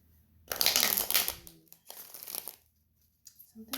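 Tarot cards being shuffled and drawn by hand, several quick papery riffling bursts separated by short pauses, close and fairly quiet.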